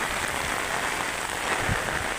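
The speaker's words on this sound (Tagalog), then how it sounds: "malakas talaga yung hangin at ulan" Strong typhoon wind and rain from Typhoon Kristine lashing Masbate Province, Philippines, a loud, steady broadband roar of gusts and downpour that continues unbroken with no voices.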